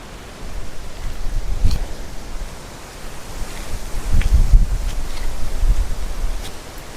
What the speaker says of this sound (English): we're just getting out of the wind now